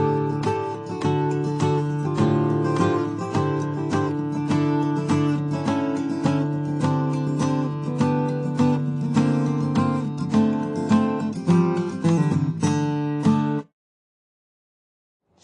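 An electric guitar plays descending suspended-to-major triads over a droning open D pedal tone, loud, close and rhythmic, ending abruptly into silence.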